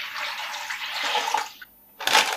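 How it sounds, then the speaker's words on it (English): Tap water pours into a bowl being filled with a liter of water for cooking, a loud, close, splashing stream that runs for about a second and a half, stops briefly, then gushes again. "you have to get a bowl, fill it with a liter of water"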